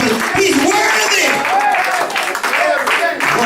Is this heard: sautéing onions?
no